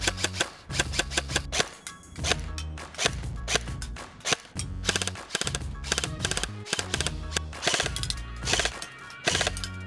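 G&G CM16 300 BOT airsoft rifle firing, a dense stream of sharp, snappy shots in quick bursts and rapid strings lasting nearly ten seconds, close and loud with no talk.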